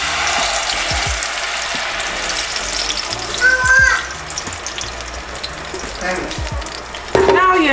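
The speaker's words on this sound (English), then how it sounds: "now we're gonna add our salsa to simmer" Salsa simmering in a pan while pupusas de frijol con queso are being made, giving a steady close sizzle and bubbling with a few stirring knocks and a brief clatter near the end.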